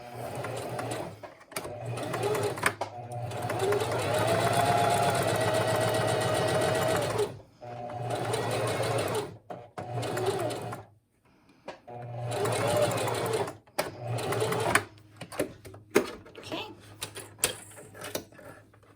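A sewing machine stitching fabric for a patch pocket, running in several bursts of steady mechanical whirring with short silent pauses between runs, heard up close.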